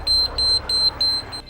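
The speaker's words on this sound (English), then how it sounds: "Now as soon as you do this, an alarm will sound." A train door alarm sounds as a repeating high electronic beep, four loud close pulses in even succession over a low background hum before cutting off.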